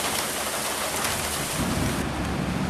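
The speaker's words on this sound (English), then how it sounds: "It's raining outside and Max is inside." Steady heavy rain pours outside, a dense, even hiss with a low rumbling undertone, continuous and close with no voices.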